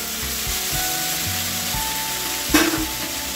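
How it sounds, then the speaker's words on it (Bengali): Potatoes frying with turmeric and salt in a pan, a steady sizzle under clunky stirring knocks, with a brief sharp scrape or clatter near the end; no talking. "ভালো করে ভেজে নেবো, একটু লাল লাল করে ভেজে নেবো"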